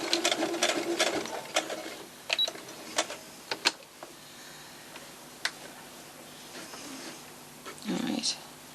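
Sewing machine back stitching at the end of a seam on a kitchen towel, quiet rapid ticking bursts with pauses, and someone talking softly over it.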